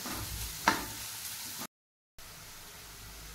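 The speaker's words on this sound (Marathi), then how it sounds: "ते आता आपण कढाईमध्ये टाकूया आणि कांद्याचा रंग बदलेपर्यंत फ्राय करून घेऊयात" Chopped onions fry in oil in a kadhai, a soft steady hiss with one brief click, broken by a short silent gap before the sizzle returns.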